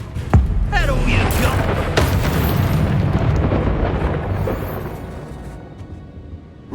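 Bombarda blasting-spell explosion in the Hogwarts Legacy video game, a loud booming burst with a rumbling, crackling tail that fades over several seconds, with a voice calling out near the start.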